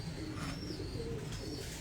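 Pigeons cooing on a rooftop, soft repeated low coos over a constant background hum, fairly quiet and close, with no talking.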